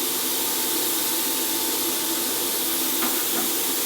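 Loud, continuous rushing hiss from a YesWelder Cut65DS plasma cutter set to 26 amps and slicing through 1/8 inch metal, steady and close with a brief shift near the end and no talk.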